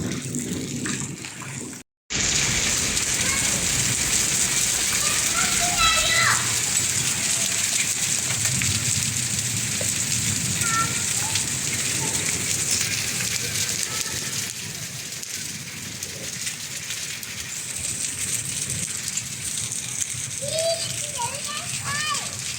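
Rain falls steadily outside a house in a village, with hail mentioned nearby, a constant broadband patter running throughout, briefly cutting out near the start, with children's voices and chatter faintly mixed in.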